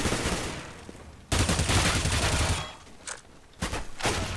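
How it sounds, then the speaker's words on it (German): A decoy grenade in CS:GO firing fake gunshots on Dust 2, sharp bursts of rapid gunfire in separate volleys with short gaps between them, close and loud. "Da hast du eine Ködergranate, Achtung!"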